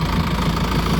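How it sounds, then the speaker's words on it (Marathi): A tractor engine runs steadily while the tractor is backed up, giving a continuous mid-pitched idling rumble with a slight knocking pulse, close and fairly loud throughout with no talk over it. "चेतनची रिवर्स असं घेते ट्रॅक्टर"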